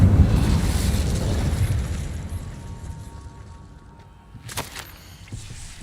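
The Incendio fire spell is cast in the video game Hogwarts Legacy with a loud, rumbling fiery blast that slowly fades, then a sharp burst and crackle near the end.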